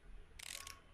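A ratchet wrench clicks in a short, rapid burst as a bolt on a Bentley T Series intake is tightened in a car-repair simulation game, with faint, quiet ticking against near silence.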